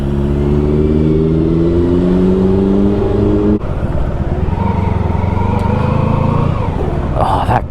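A Honda Pan European ST1100 motorcycle engine runs loud and close, its pitch rising as it revs, then dropping and climbing again.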